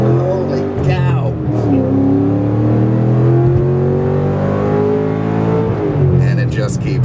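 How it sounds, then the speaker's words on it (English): A 2008 Ford Mustang Bullitt engine with performance modifications revs hard nearby, its pitch climbing and holding in a sustained roar, with a voice speaking over it. "And it just keeps revving."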